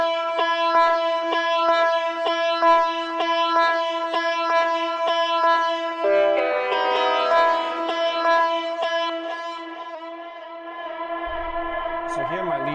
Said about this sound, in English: So here my lead sound is actually a bit of guitar I recorded